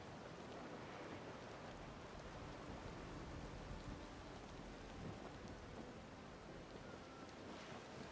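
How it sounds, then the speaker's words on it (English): Heavy wind-driven rain lashes a ship's deck in a stormy sea scene from the game Pillars of Eternity II: Deadfire, a dense continuous hiss with deep rolling thunder underneath. "The wind drives the rain across the decks."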